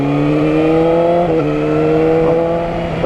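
A warmed-up 2019 Yamaha R6 fitted with an Akrapovic exhaust holds a loud, steady engine note close by, with a slight dip and rise in pitch partway through.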